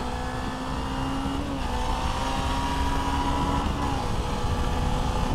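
Suzuki V-Strom 250 motorcycle accelerating on the road, a steady engine whine rising gently in pitch with slight dips at gear changes, heard from the rider's position under constant wind rush.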